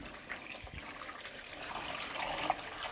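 Tap water pouring into a plastic drum to fill it, a steady hissing splash with small trickles, moderately faint and continuous, no talk.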